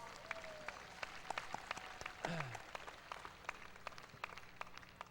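Faint crowd applause welcomes the county magistrate at the 2003 Taipei County joint harvest festival, a soft patter of clapping heard with a voice over it.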